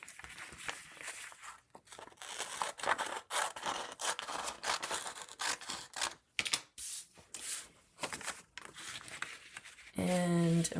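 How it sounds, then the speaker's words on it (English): Scissors trimming a hand-made jelly print paper cover, giving close snipping and rustling paper sounds in an irregular rhythm, with brief handling noises between cuts. "I have this piece of jelly print that I made, and I'm just going to trim it."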